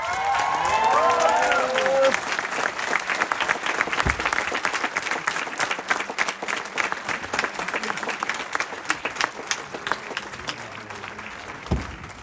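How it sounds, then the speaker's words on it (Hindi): Audience in a hall bursts into loud applause with some cheering at a success testimony event, dense clapping steady throughout and tapering slightly toward the end. "खड़े होके मेरे घर वालों के लिए एक बार जोरदार क्लैपिंग हो जाए।"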